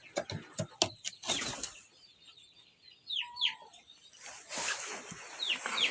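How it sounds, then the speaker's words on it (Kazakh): Kuchinsky hens in a quiet yard give soft clucks and low calls among scattered sharp pecking clicks, intermittent and fairly close, with a faint brief coo in the middle. "Ал мұнда бізде кучинский тауықтарымыз."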